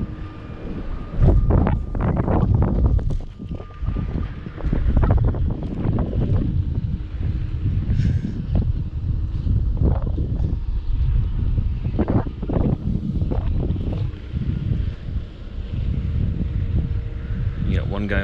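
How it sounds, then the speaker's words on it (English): Strong wind buffeting a microphone outdoors during a crane offload from a truck, a continuous loud rumbling roar with gusty surges throughout, with people talking underneath. "The wind picked up just now too,"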